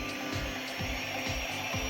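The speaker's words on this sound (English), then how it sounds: "Got my blow dryer set on cool. I'm going to put it on low." A blow dryer set on cool and low runs with a steady airy whir, accompanied by repeated soft rubbing or scraping sounds at a close distance, with no talking.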